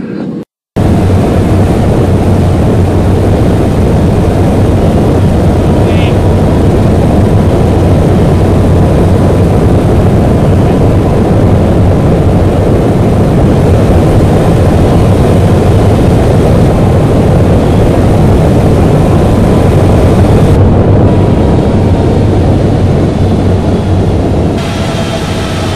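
Airbus A350 airliner on its landing approach in Flight Simulator X, arriving at Paris; a loud, steady engine roar fills the whole stretch without a break, with no one speaking.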